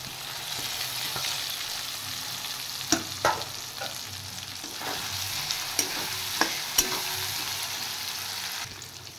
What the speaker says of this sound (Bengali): এবার ভালো করে মশলাটা সাঁতলে নিই। এবার আমি দেব ভেজে রাখা আলু।